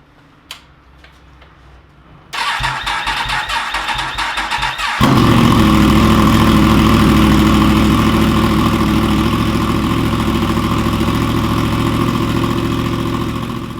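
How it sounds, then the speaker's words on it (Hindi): A motorcycle starter cranks for a few seconds on a weak battery before the cold engine catches and settles into a loud, steady, slightly uneven idle close by. "कोल्ड स्टार्ट पे बैटरी थोड़ी सी डाउन है ज़रा, इसलिए टाइम ले रहा है थोड़ा स्टार्टअप में।"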